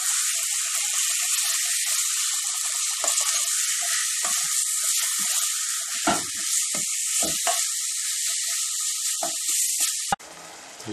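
Minced meat frying and browning in a pan for a panzerotti filling gives a steady, close, bright sizzle with scattered crackles and pops, cut off abruptly near the end.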